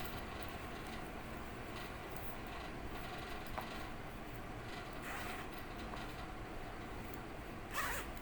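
The zipper on a black handbag's pocket rasps open and shut in a long, steady scratchy drag, close and fairly quiet, with a sharper pull near the end and no speech.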